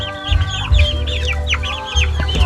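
About a dozen young fighting chickens, around a month old, cluck and peep in a busy, overlapping chorus of short chirps close by, over a low background rumble.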